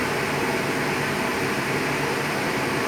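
A steady, broad whooshing roar of a machine fan runs continuously and loudly, without change or pauses.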